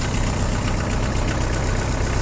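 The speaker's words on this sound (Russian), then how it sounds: "Думаю, видно и слышно, что трактор работает достаточно ровно." Steady, even idling of a Kubota X-20 Japanese compact tractor engine, a continuous low rumble that stays at a constant level throughout, heard close up with no talking.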